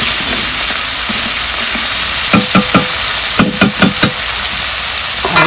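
Onions and garlic frying in mustard oil, a steady loud sizzle with a burst of quick stirring scrapes toward the end.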